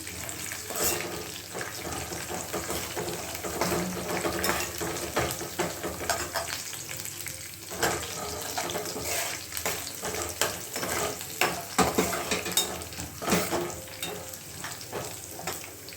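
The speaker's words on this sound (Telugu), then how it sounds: "ఇది మంచిగా పల్లి కూడా ఆయిల్లో ఫ్రై అయ్యే విధంగా మనం ఫ్రై చేసేసుకుందాము" Peanuts frying in hot oil for lemon rice, giving a steady crackling sizzle with scattered sharp pops and scrapes of stirring that run close and fairly loud for the whole stretch, with no talking.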